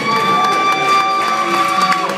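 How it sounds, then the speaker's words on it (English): Audience applause at a live comedy stage show, a dense, steady wash of clapping that fills the whole stretch at full loudness, with faint tonal background music running underneath. "Give a big round of applause."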